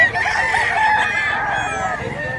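Roosters crowing and chickens clucking among sale birds at an early-morning poultry market, several calls overlapping at close range with faint voices behind.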